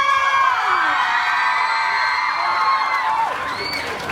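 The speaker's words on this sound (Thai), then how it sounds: "ขอเสียงปรบมือให้กับคุณแม็กพลิโชค่ะ" A shopping-mall crowd at a Peck Palitchoke talk event at Robinson Lifestyle Phetchaburi breaks into loud cheering, whoops and high children's shouts over scattered clapping, a dense sustained roar that thins toward the end.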